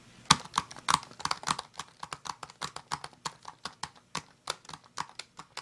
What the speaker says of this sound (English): Go ahead and type that in there.